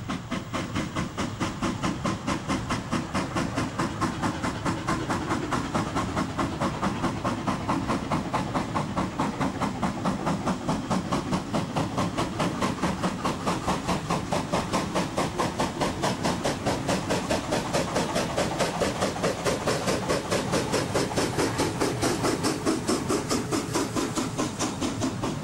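Steam locomotive 99 323 of the Molli narrow-gauge line hauls a photo-charter train, its steady rapid exhaust beats and hiss rolling continuously at close range for the whole stretch, with no voices.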